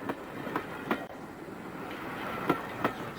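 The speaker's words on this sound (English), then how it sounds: "I'm recording the sound of the locomotive." The Flying Scotsman steam locomotive running along a railway, giving a steady rolling rumble with faint rhythmic clicks and a few brief sharper knocks, continuous and moderately distant.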